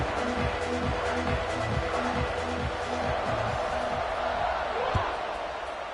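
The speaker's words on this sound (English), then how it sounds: "this crowd is buzzing after that last score" Stadium crowd at a college football game between Georgia and South Carolina buzzes after a touchdown, a steady loud roar of many voices with a rhythmic band or chant pattern underneath and a sharp thump near the end.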